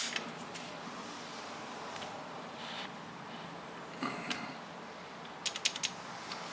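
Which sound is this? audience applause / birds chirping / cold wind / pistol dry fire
pistol dry fire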